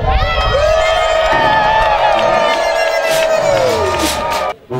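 Members of the ASLA-OPH association cheer and acclaim together, a loud sustained crowd roar carried by one long rising and falling shout, with whoops and a brief dip near the end.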